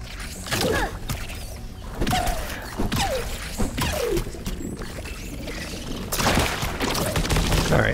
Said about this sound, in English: there are explosions everywhere